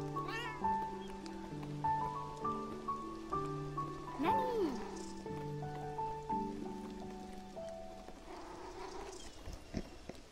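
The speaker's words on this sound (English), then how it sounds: "What you doing, you crazy kitty?" A cat meows in the video game Beyond Eyes, with soft repeated calls over a melodic in-game music bed and light rain, all fairly quiet.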